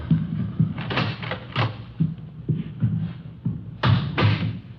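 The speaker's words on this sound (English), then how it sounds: "I'll get the door." Door-opening sound effect in a 1951 radio police drama: a series of close, dull thumps and wooden knocks with a brief scrape, spread irregularly across several seconds without speech.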